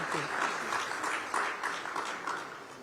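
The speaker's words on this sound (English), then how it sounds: "Let's give them a very warm round of applause for that as well." Audience applause at a conference stage event, a soft continuous patter of clapping heard at a distance and fairly quiet, lasting the whole moment.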